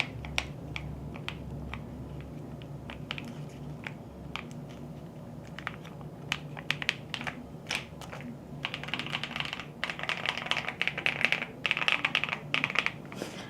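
Typing on a modded mechanical keyboard with an extra layer of dampening behind the space bar, a steady stream of close, crisp key clacks that grows denser and louder toward the end, with no voices.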